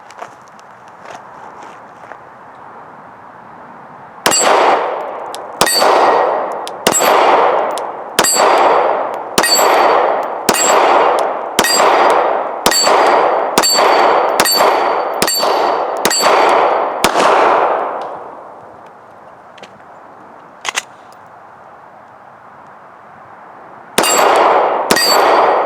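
Rapid pistol shots fired through a magazine at a range, each crack followed by a bright metallic ring from struck steel targets, in a steady string of about a dozen, a pause with one lone shot, then a few more.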